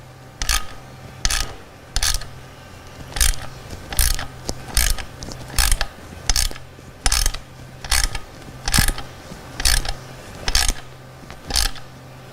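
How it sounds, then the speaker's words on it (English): A ratchet with an 8mm socket tightens a bolt on a motorcycle linkage guard, giving a steady series of about fifteen close, clicking ratchet strokes, each a short burst of rapid pawl clicks, with no talking. "I like to use a ratchet, an 8mm socket."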